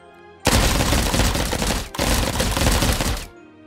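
Blaster pistol in SWTOR fires in a starburst pattern: a loud, dense burst of rapid energy shots, broken by a brief gap, then another burst that cuts off sharply.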